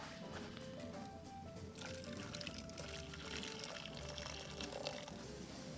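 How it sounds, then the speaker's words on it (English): Water poured into a pot at an outdoor campfire on a cool spring day, a steady continuous splashing stream that runs for several seconds, close and fairly loud with no talk over it. "I just need a good little bit of water in here."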